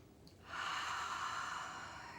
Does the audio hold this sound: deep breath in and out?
yes